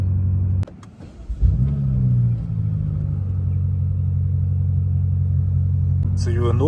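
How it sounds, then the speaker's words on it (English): A BMW M5 Competition (F90 LCI) engine starts with a thump and settles into a deep, steady exhaust rumble, close by, ending with a brief higher rising sound. "with the windows down, you can kind of hear that exhaust note"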